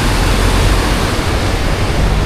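Strong river current rushing loudly and steadily in the Baguio valleys, heard as a continuous broadband roar close to the microphone with no break across the clip.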